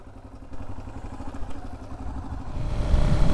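A Yamaha Ténéré motorcycle, just refuelled, pulls away on the road, its engine rising from a clattering mid-level idle to a louder, deeper rumble as it gets underway; no one talks.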